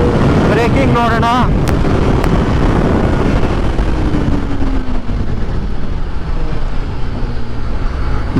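A Kawasaki ZX4R 400cc motorcycle ridden at speed and braking hard, with loud wind rush and engine roar, a brief voice early on, then the engine note falling steadily as the bike slows.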